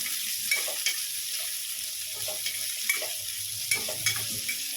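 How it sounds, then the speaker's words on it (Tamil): Chopped big onions, four or five of them, sauté in a pan for channa masala, giving a steady, close sizzle broken by regular scraping stirs of a spoon through the pan. "நல்லா வதக்கிடலாம்."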